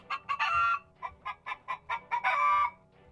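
Minecraft chickens clucking in a quick series of short, close squawks, about ten bursts in three seconds with a couple of longer, louder calls mixed in, alone without talk.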